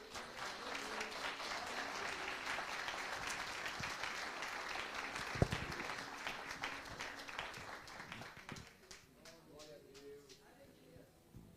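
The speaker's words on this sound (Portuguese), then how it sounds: "Aplaude, Senhor." A church congregation applauds in sustained, dense clapping that fills the room, gradually thinning and fading toward the end as a voice begins speaking over it.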